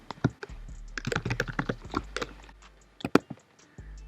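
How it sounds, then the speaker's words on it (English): Fingers type a passphrase on a computer keyboard, a close, uneven run of crisp key clicks with short pauses, alone without speech. "I've typed in all of the passphrases"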